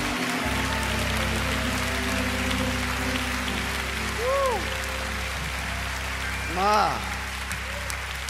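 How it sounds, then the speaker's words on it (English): Congregation clapping in praise at a church family camp service, a steady wash of hands throughout, with a few brief vocal exclamations rising above it. "Give the Lord a hand clap of praise tonight."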